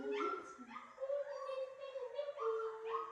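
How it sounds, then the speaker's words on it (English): A puppy whimpers and whines in a series of high, wavering cries close by, with soft murmuring talk from a person in the background. "Where's that puppy?"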